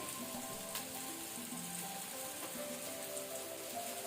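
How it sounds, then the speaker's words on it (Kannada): Chopped okra (bendekai) frying steadily in hot oil, a dense, even sizzle that stays constant and fairly close throughout, with no voices over it. "ಎಣ್ಣೆ ಹಾಕಿ ಬೆಂಡೆಕಾಯಿಯನ್ನು ಫ್ರೈ ಮಾಡೋದ್ರಿಂದ ಅದರ ನೋಳೆ ಎಲ್ಲ ಹೋಗುತ್ತೆ"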